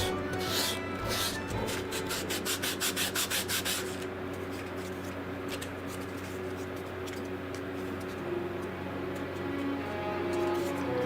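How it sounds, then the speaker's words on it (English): Sandpaper rubbing on a King of Red Lions boat model from Wind Waker, with a quick run of close, rhythmic strokes for the first few seconds, then a steadier, softer scratching over a low background hum. "Sandpaper ASMR build."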